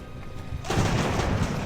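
A musket volley crashes out in the naval battle game Ultimate Admiral: Age of Sail, a sudden dense burst of overlapping shots that rolls on as a sustained crackling roar after a quieter lead-in.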